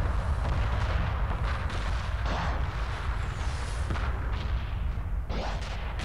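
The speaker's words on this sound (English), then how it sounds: "My mothership is exploding." A mothership blowing up in the space strategy game Homeworld, heard as a sustained, loud roar of heavy booms and rumbling blasts with sharp bursts layered through the whole stretch.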